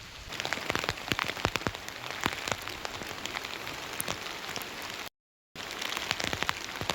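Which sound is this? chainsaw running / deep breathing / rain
rain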